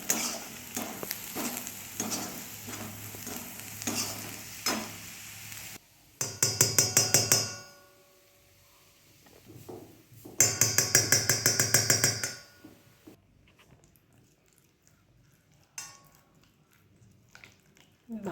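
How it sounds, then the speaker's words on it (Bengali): Onion and green chili fry in a pan, a hiss broken by two loud bursts of rapid stirring and scraping, with someone talking at times between them. "পেঁয়াজ লঙ্কাটা একটু ভেজে নিচ্ছি"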